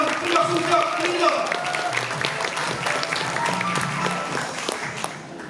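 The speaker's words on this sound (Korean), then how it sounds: "열정적으로 축사해주신 김정석 부장님께 다시 한번 큰 박수 부탁드립니다." Applause from the floor after a guest's congratulatory speech at a Democratic Party delegates' convention, a dense wash of clapping while an amplified voice keeps talking over it.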